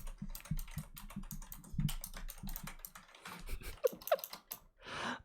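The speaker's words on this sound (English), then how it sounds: "It's hard to type when your keyboard is mostly blocked by a mic arm." Fast, uneven typing on a computer keyboard partly blocked by a microphone arm, a continuous patter of close clicks and key thuds with a few louder taps, no talking.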